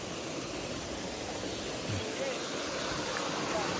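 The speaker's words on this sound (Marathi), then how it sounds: "आता धबधब्याचा शॉट तुम्हाला दाखवल्याशिवाय राहवत ना मला" A waterfall roars as a dense, steady rush of water, broad and constant throughout without a break.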